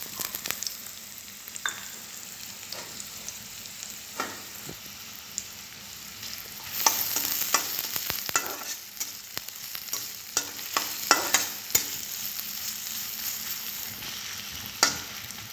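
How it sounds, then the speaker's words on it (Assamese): Chopped onions, two large ones cut small, frying in a pan with steady sizzling, joined by intermittent scrapes and clicks of a spoon stirring them, louder bursts midway; no talk. "পিঁয়াজখিনি ফ্ৰাই হৈ আছে"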